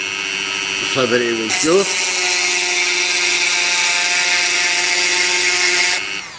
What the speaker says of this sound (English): take a normal Dremel and a small milling bit and set it